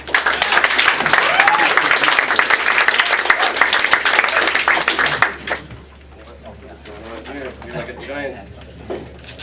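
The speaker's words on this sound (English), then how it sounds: "thank you for applauding" Loud audience applause at a Green Party meeting for Day of Peace, greeting a stand-up comedy act: dense clapping for about five seconds that then stops abruptly, leaving quieter room sound and faint voices.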